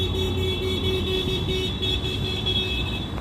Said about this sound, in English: Ooh, a lot of honks, a lot of honks.